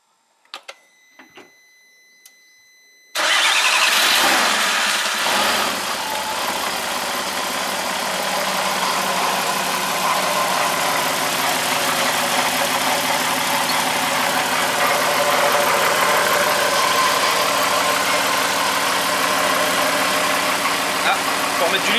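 A VR6 24V engine cranks and fires after a few quiet seconds of small clicks and handling noises, then settles into a steady, loud idle that runs on without a break.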